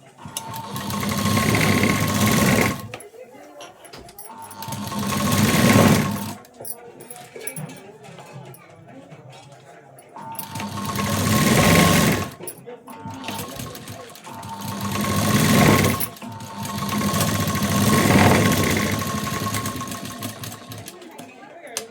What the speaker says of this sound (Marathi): इथे मी आता एक शिलाई देऊन घेते